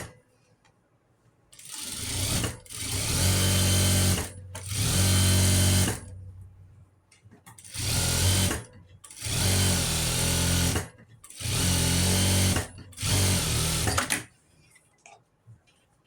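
Sewing machine stitching the fitting seam on an Angrakha kurti, running in six loud bursts of about one to two seconds each with short pauses between, close and alone.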